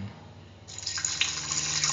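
About 200 ml of coconut milk poured into a pressure cooker of potato, chayote and tomato rice, starting as a sudden splashing, liquid gush after a quiet moment and continuing close and steady.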